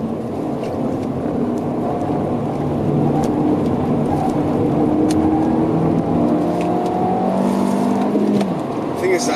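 A car is driven on the Nordschleife track, with a continuous engine drone and road and wind rumble rising and falling through gear changes, up close from inside the cabin.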